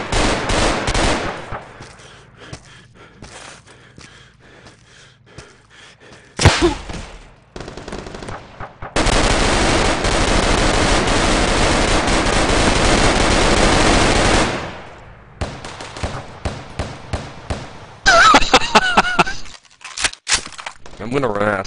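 A SAW machine gun fires in a first-person video game, with long sustained automatic bursts broken by short gaps and a few single shots, loud and close, while a voice talks between the bursts.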